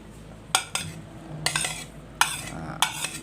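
Utensils clink and scrape against a bowl while instant noodle salad with tomato, spring onion, coriander and red chilli is stirred and tossed, in a few separate bursts of clattering at close range.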